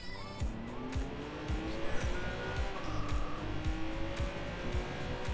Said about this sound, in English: I jacked a ride and now I'm booking it to a clothing store.